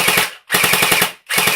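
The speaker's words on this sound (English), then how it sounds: "not a bad little firing little gun." An airsoft rifle fires three rapid full-auto bursts, each a dense mechanical rattle of quick shots separated by brief silences, loud and close with no talking.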